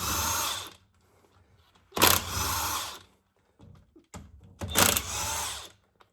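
A DeWalt power tool zips off rear differential cover bolts on a RAM 3500 in three short, loud whirring bursts separated by pauses with faint clinks.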